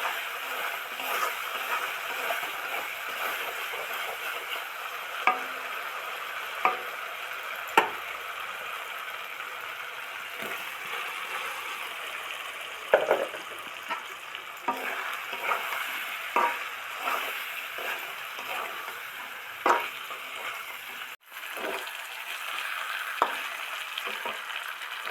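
Cauliflower and potato frying with spices in a pan give a steady, even sizzle throughout, broken by occasional faint stirring clicks and scrapes.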